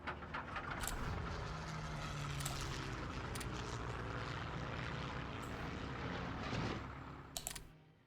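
Light bomber aircraft engines drone in the Hearts of Iron 3 strategy game, a faint, steady propeller hum with a few scattered clicks on top.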